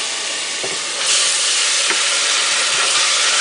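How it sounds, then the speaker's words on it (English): Stock poured into a hot pan of cooked onions for collard greens bursts into loud, steady steam and sizzle, a dense hiss that swells after about a second with faint scraping knocks underneath. "when I put the stock in, I just put just enough in to deglaze it, to get the stuff off of the pan onto my onions"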